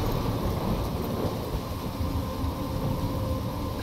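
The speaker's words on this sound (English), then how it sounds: "I'm trapped in a storm?" A thunderstorm in the video game Life is Strange rumbles continuously, with dense rain and deep thunder filling the whole stretch loudly and without any talk.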